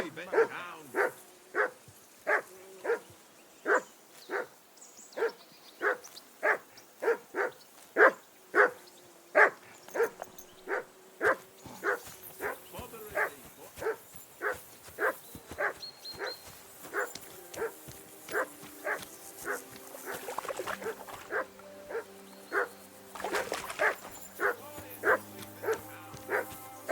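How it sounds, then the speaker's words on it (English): A dog in the medieval game Kingdom Come Deliverance 2 barks in a steady, rapid series of sharp, loud, close barks, then gives way near the end to a busier mix of game sounds. "Call off that mutt of yours!"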